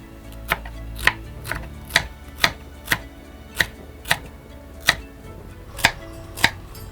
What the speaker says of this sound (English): me just go ahead and begin to cut my okra